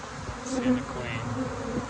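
Honeybees buzz at a hive, a close, continuous droning hum with a few individual bees whining past, steady and moderately loud, with no talk.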